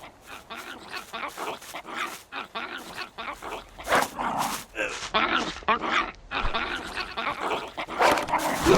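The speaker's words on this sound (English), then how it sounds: "then heard the dog growling" A dog in the Survival: Fountain game snarls and barks in dense, choppy bursts, loud and close, with rising intensity toward the end.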